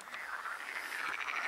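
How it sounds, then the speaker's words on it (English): Frogs croak in a lake at night in a Dutch forest, a dense continuous chorus of rasping calls, moderately faint and unbroken, with no voices over it. "You can hear the frogs in the lake."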